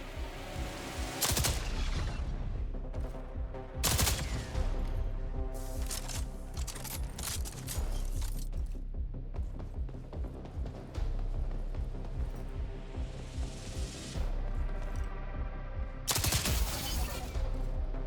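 Gunfire bursts in the sci-fi shooter Jump Ship, loud rapid volleys of shots recurring through the stretch with game sounds between, no talk.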